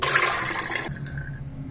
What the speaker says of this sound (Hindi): अभी इसमें एक गिलास पानी डाल दिया है